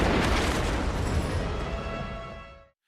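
A deep, rumbling missile explosion on a battlefield roars and echoes, then fades into silence over about three seconds.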